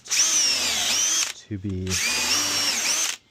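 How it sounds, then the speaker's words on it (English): A power drill fitted with a countersink pre-drill bit bores into wood for a wooden zome frame, two loud whining bursts split by a short motor stop, with a few spoken words in between. "So I have a countersink pre-drill like this."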